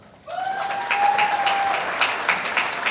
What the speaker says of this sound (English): Some people brought their cheering sections tonight, Kevin.